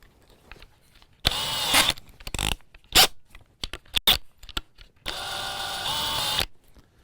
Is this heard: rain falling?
no